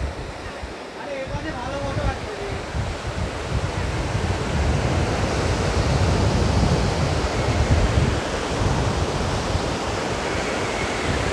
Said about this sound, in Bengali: আর কিছু হোক না হোক, হাওয়া মারাত্মক